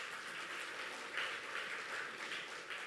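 Audience applause at a central bank governor's speech at a report launch in Indonesia, a steady broadband patter of many hands clapping at moderate distance, fairly quiet and even throughout with no talk over it.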